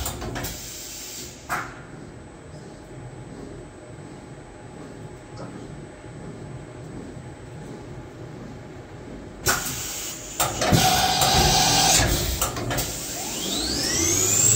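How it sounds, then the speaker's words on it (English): A Smart SV-2 vertical machining center with a 30-tool automatic changer runs a tool change cycle: a low mechanical hum with faint clicks, then a louder burst of whirring, hissing and clunking motion near the end. "we are going to cycle out and change the tool block"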